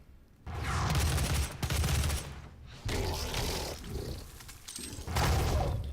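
Gunfire in DOOM's destroyed Argent Facility: dense bursts of rapid shots in several blasts separated by short gaps, loud and close, with no voices.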